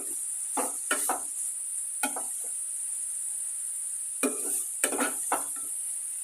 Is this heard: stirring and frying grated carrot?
yes